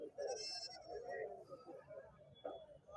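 Local goats bleat at the weekly Friday livestock market in Husnabad, Siddipet district. Several wavering bleats come close and overlap, with market chatter in the background.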